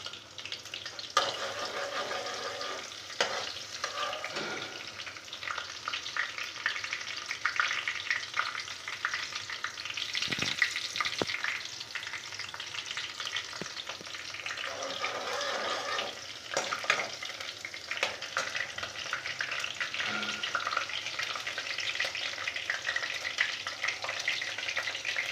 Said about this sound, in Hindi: मेरा तेल हो गया है गरम। अब मैं यहाँ इसमें डालूँगी हरी मिर्च, और ये हमारी प्याज।